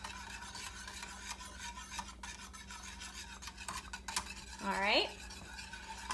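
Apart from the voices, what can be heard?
stirring milk mixture in a pot for MCT butter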